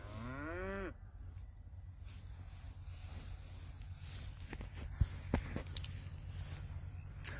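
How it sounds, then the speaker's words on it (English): Cattle in a paddock at a Longwarry-Yannathan beef supplier's farm give one loud, close, drawn-out moo at the start, followed by steady low outdoor rumble, a few sharp knocks and soft shuffling steps, with no voices. "Very happy cows."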